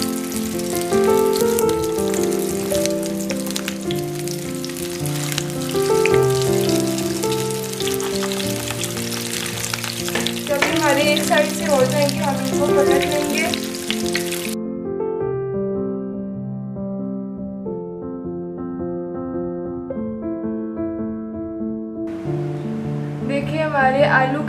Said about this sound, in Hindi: हमारा ऑयल रेडी है फ्राई करने के लिए। अब इसमें हम अपने कबाब को डाल देंगे।